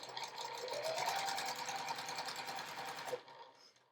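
A sewing machine chain-pieces quilt fabric squares for a beginner quilt block, running in a steady fast rhythmic whir for about three seconds, close and loud, then stopping abruptly.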